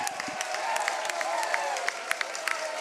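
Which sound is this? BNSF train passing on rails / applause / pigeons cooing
applause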